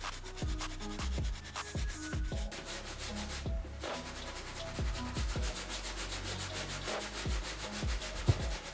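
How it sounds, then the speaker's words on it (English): Stiff medium-bristle brush scrubbing the white stitching of an Air Jordan 12 sneaker during cleaning, a steady run of quick, close scratchy strokes with no talking. "With the medium bristle brush, we're gonna focus mainly on this shoe, stitching on the white."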